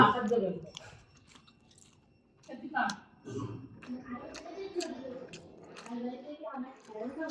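Close chewing and munching of chowmein cooked with turmeric, mustard oil, tomato and beans, soft wet bites and smacks coming in irregular bursts between quiet pauses.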